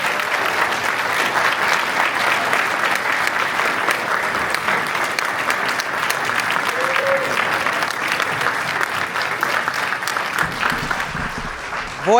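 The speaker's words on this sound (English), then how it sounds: "Let's give them another big round of applause." An audience at an outdoor street sign unveiling claps steadily and loudly in a dense, sustained round of applause that carries on throughout, with a brief voice rising near the end.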